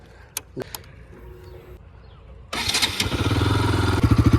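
A Bajaj Pulsar RS200 motorcycle, a black BS6-updated model, fires up after a few clicks and thumps, then settles into a loud, close, steady engine drone with a rhythmic pulse.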